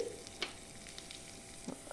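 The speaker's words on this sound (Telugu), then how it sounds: "దీన్ని తాలింపు పెట్టుకోవాలి ఆవాలు జీలకర్ర కరివేపాకు సన్నగా తరిగిన పచ్చిమిర్చి వేసి" Soft, steady sizzling of mustard seeds, cumin, curry leaves and finely chopped green chillies tempering in hot oil, with a few sharper crackles and pops standing out over the low hiss.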